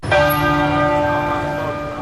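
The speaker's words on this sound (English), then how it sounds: "Bells rang out at Westminster Abbey today in honor of Queen Elizabeth II" Church bells at Westminster Abbey ringing in honor of Queen Elizabeth II, one loud clear strike that swells at once and then hums away in a long, rich fading ring.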